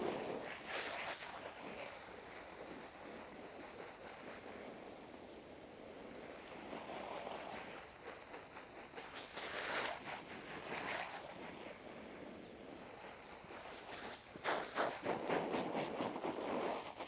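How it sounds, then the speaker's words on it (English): Water from a hose rinses a sheet mulch garden bed, a continuous broad splashing wash that swells and surges louder in places, especially toward the end. "I'm going to give it a nice wash down, a rinsing"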